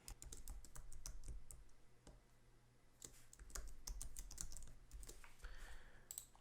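Keys clatter on a computer keyboard as a password is typed, quiet quick irregular taps in two short runs with a brief pause between, no talking.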